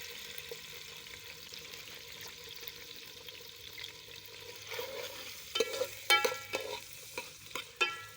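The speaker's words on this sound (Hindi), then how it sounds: "घी मेरा हो गया गरम। अभी मैं इसमें डालने लगा हूँ प्याज" Sliced onions go into hot ghee in a karahi, bringing a quiet frying hiss and a cluster of sharper spatula clinks and stirring taps toward the end, heard close with no talk.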